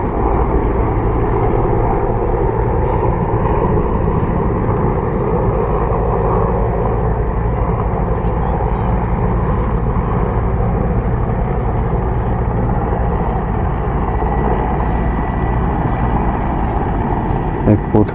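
An aircraft approaching a helipad to land, heard as a steady, loud broadband engine drone with a low rumble that holds without a break throughout, close to the recording device.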